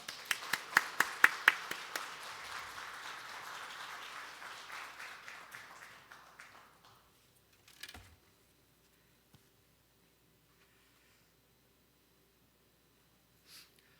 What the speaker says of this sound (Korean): 우리 박수로 환영하면 좋겠습니다